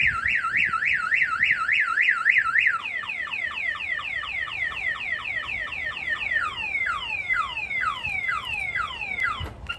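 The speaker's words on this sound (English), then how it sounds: "I'm gonna go ahead and arm the alarm again. I'm gonna go ahead and trigger it." A 2022 Mercedes Sprinter van's aftermarket alarm system, triggered: a loud, close siren that first warbles rapidly up and down, then changes to repeated falling sweeps, continuing steadily throughout with no talking.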